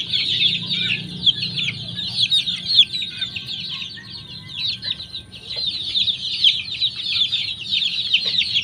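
A flock of 21-day-old chicks, young stags, peeping continuously in a high chorus, close and steady throughout with a soft low background hum.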